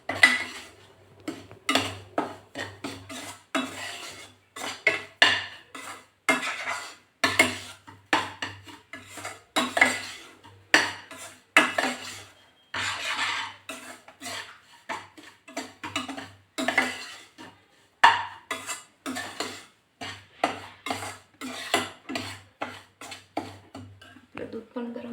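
Shira being stirred and roasted in a metal pan, with a spoon scraping and clinking against the pan in a steady series of sharp, close taps and scrapes throughout.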